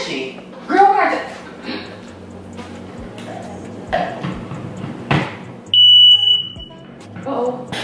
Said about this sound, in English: a little update on the smoke alarm